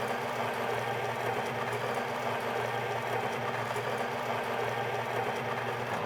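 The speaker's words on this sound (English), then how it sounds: "So that's gonna trigger the grinder." A Solis Grind & Infuse Perfetta coffee grinder runs with a constant whirring, buzzing drone, steady and close throughout with no break.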